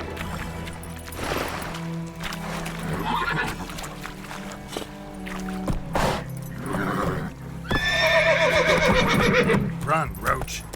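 A horse in The Witcher 3 gallops with rapid hoofbeats and gives a loud whinny near the end, while someone speaks over it.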